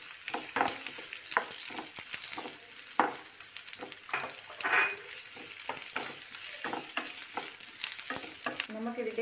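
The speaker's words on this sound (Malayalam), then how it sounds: "നമുക്ക് ഈ ഉള്ളി ഇട്ട് കൊടുക്കാം." Onions sizzling in hot coconut oil for mango cutlets, crackling steadily up close while a spoon stirs and scrapes in quick irregular strokes, no voices.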